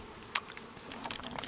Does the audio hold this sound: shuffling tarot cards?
no